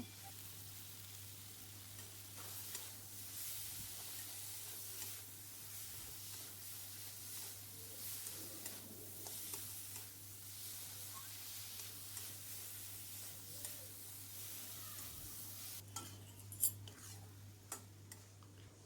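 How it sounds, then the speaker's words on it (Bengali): Okra masala with tomato and salt cooks in a pan, giving off a soft, steady sizzle, with a few light scraping ticks from stirring toward the end. "এরপর আমি ভালোভাবে আবারও ভেন্ডি মশলা কষিয়ে নেব"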